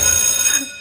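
A mobile phone rings with a bright, steady electronic ringtone of layered tones, loud and close, fading somewhat toward the end, in a Chhattisgarhi comedy sketch.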